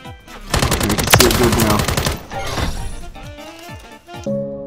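Rapid automatic gunfire from a hip-fired laser-sight weapon in Call of Duty: Modern Warfare 3, loud bursts of dense shots followed by sparser cracks and game effects at the end.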